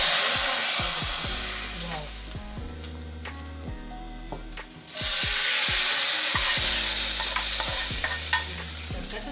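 Onions for chicken korma frying over a low flame in a pan, a steady close sizzle with repeated scraping stirs and spoon knocks, the sizzle briefly dropping then returning louder.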